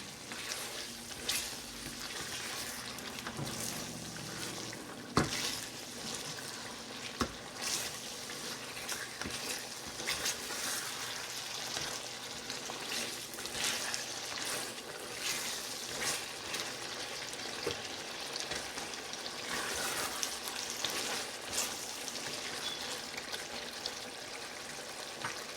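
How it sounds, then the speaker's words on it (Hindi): Lamb pieces frying with yogurt in a pot for achar lamb masala, a dense continuous sizzle with scattered scraping stirs and a sharp clack of the spoon early on, close and fairly quiet, no talking. "दही डाल के अब हम इसको मज़ीद भून लेंगे"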